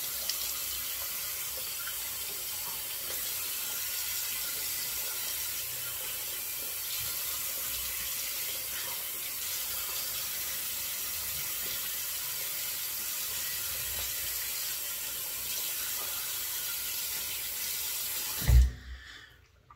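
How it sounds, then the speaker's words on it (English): A tap runs steadily to rinse during a shave, giving a continuous, close hiss of flowing water for most of the stretch before a brief knock and a sudden stop. "So we'll give it a rinse."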